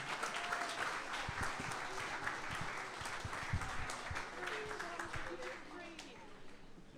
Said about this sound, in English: give another round of applause to the King County folks